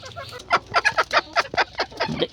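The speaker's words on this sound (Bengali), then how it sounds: "এই যে এই মুরগিটি একটু দেখেন" A large-breed native hen clucks close by in a quick series of about a dozen short, sharp calls, fairly loud against a quiet background.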